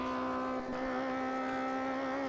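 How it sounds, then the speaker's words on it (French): Rally car in the video game MUD World Rally, its engine held at steady high revs during re-acceleration in a short, loud, continuous drone with a faint dip partway through. "Quand je réaccélère comme ça pétarade."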